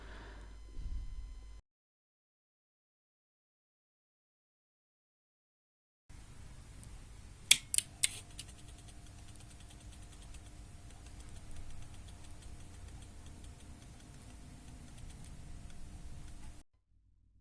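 A self-adjusting variac switches on, its small motor turning the wiper at a steady low hum with a faint tick, after a couple of sharp clicks at start-up and silence before.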